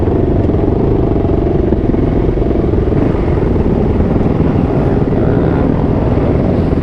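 Harley-Davidson motorcycles idle and rumble at a gas station during a large Miami rideout, a loud, continuous, throbbing engine drone from several bikes close by, with no talking.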